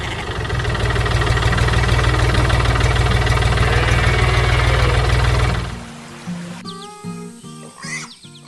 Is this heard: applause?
no